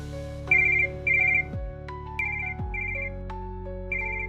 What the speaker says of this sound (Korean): 낯선 번호로 전화가 왔다